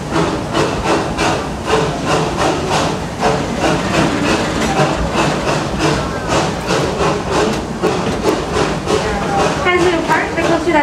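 The Serengeti Express ride train at Busch Gardens Tampa Bay clatters steadily along its track with rhythmic rattling and wooden knocks, and a voice talks over the continuous rolling noise.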